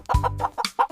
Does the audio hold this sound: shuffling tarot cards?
no